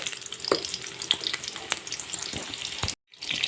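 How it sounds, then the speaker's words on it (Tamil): Small shallots sizzle in hot oil in a pan for a mixed chutney with pirandai, giving a close, crackling fry broken by sharp spatula taps and a brief silent gap near the end. "ஒரு பத்து சின்ன வெங்காயம் போட்டுக்கிறேன்"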